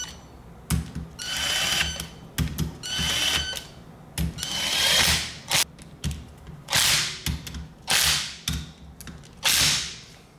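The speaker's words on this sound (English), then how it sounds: "I'm just gonna use a little impact gun" A small impact gun snugs the bolts on BC coilover suspension being fitted to an E36 drift car, firing in repeated short bursts of rattling buzz, some with sharp hammering clicks, with brief pauses between, close and loud.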